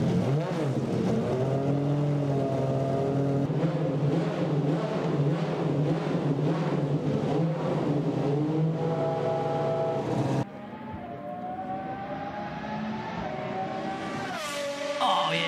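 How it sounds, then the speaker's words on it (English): A purpose-built race car engine revs hard on a track, its pitch climbing and dropping through several sustained pulls, then cutting off abruptly before rising again, loud and close. "It's a purpose-built race car, probably. It sounds like it's on a track."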